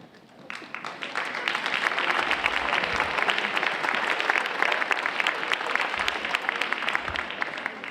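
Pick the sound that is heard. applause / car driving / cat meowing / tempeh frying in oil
applause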